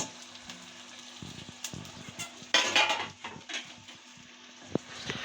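Ground-meat meatballs for Turkish ekşili köfte being stirred in a pot, with scattered metallic clinks and scrapes of a utensil against the pot, a louder clatter midway, and otherwise quiet pauses between the knocks.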